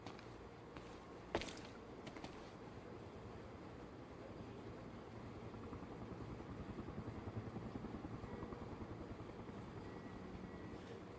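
A helicopter in the video game Quantum Break gives a steady, broad rotor and engine rumble that holds at a fairly even level throughout, with one sharp brief burst near the start.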